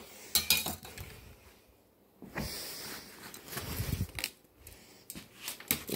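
Dollar Tree kitchen utensils, a strainer, a big grill spatula and tongs, are handled close up, with scattered metallic clinks, rattles and rustling bumps between quiet gaps.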